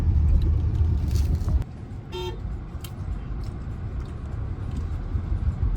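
Road traffic at a busy city signal at night: a steady low engine rumble from idling and passing cars, with a short car horn toot in the middle and a few faint distant honks.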